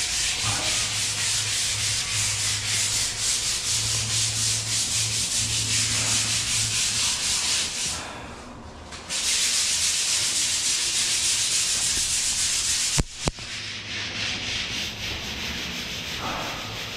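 Sandpaper rubbed by hand over dried skim coat putty on a wall or ceiling, a steady close scratchy rasp that runs almost continuously, with a short pause midway and a brief knock near the end.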